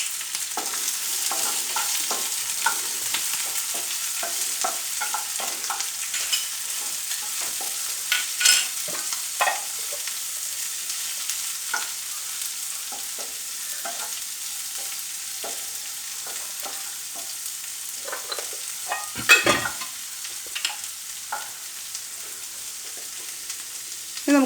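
Chopped onions and green chillies fry in a pan for a green chilli tamarind curry. A continuous soft sizzle runs under repeated scraping strokes from stirring, with no talk.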